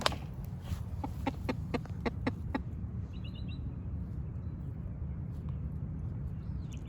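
Chickens cluck in a short burst of sharp calls near the start, then fade to a steady, noisy farmyard background with faint chirps.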